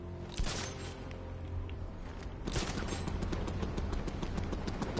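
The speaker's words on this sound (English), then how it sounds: "What, something shooting at us?" Gunfire aimed at the player in the Batman: Arkham Knight video game, a dense crackling fusillade that surges twice, with a burst at the start and a louder, sustained volley from midway on.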